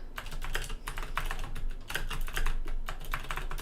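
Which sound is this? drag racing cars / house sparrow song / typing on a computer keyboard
typing on a computer keyboard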